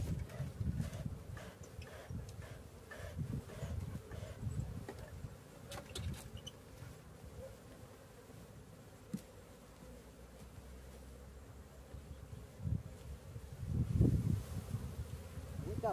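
Honey bees buzz around hive combs during a comb swap, a steady low hum under rustling and handling noises, swelling louder near the end.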